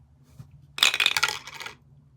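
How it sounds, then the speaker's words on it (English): A die rolled across a hard surface in a heads-or-tails game, a brief, sharp rattle of tumbling clicks lasting about a second over a low, quiet background hum. "we are doing heads and tails with a dice"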